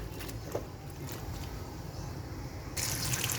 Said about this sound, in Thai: เสร็จแล้วเราต้องล้างน้ำเปล่ารอบนึงนะคะ